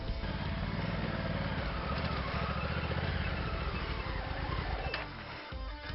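A motorcycle climbs an uphill incline, its engine giving a steady, loud, close drone that holds for the whole stretch before easing slightly at the end.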